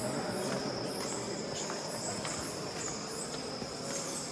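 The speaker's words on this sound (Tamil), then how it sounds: "இங்கே ஃபுல்லாக பேட்ஸ் எல்லாம் கூடு கட்டியிருக்கு. நல்லா சத்தம் போட்டுட்ருக்கு." Bats roost inside Borra caves near Araku Valley, filling the cavern with a steady, dense high-pitched chittering that runs continuously for several seconds without speech.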